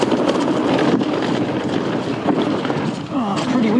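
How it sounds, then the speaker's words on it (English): Strong wind buffets the microphone at a bike park, a continuous loud rushing roar with gusty swells and a faint voice underneath. "Oh, pretty windy today"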